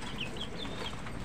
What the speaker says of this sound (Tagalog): So, dito, may mga manok din dito,